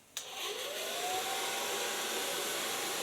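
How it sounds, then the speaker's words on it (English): A hair dryer switched on to blow-dry hair with a fine brush, starting with a click and rising into a steady, loud airy roar with a faint whine, close up and without talking. "Take a fine brush and gonna dry the hairs."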